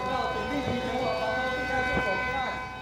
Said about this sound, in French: Les sirènes de raid aérien ont retenti dans toute la ville de Taipei.